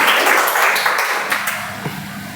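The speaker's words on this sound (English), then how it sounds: "Can we have a round of applause for Chandan, please?" A round of applause for a student speaker at a meeting, steady mid-level clapping that holds evenly throughout with slight room echo.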